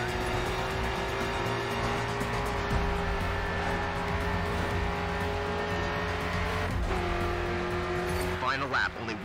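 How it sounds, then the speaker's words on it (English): In the racing game Grid 2, a car engine drones steadily with tire squeal while drifting and sustained engine tones shift in pitch, as someone talks over it. "Get some nice drifting."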